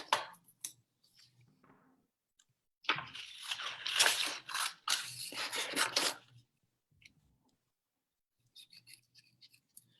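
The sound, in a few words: scissors cutting a paper craft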